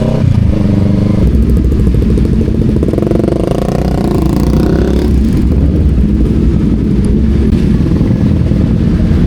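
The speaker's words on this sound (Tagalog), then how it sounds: "papapasukin ko yung bagong motor na" A new motocross-style motorcycle rides in, its engine running loud and steady throughout, with a rough idle and revving that rises and falls over a constant low rumble.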